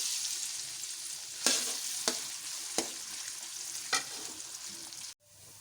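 Onions frying in hot oil in a kadai make a steady bright sizzle, broken by several sharp stirring scrapes and spatters, close and fairly quiet, ending abruptly.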